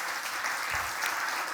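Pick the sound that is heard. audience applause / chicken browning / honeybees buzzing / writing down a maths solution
audience applause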